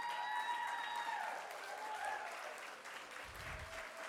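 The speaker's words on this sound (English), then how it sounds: "I want each one of you to stand and give yourselves and each other who have come tonight a round of applause" An audience at a Women's Equality Day event in West Hollywood gives a standing round of applause, a steady, fairly distant crackle of many hands with faint voices mixed in.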